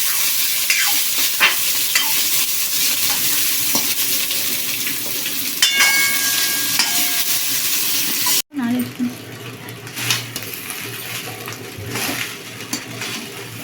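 Pre-fried carrot and capsicum stir-fried in a pan, a steady scraping sizzle with a clatter of a utensil midway, then a softer, quieter stirring hiss.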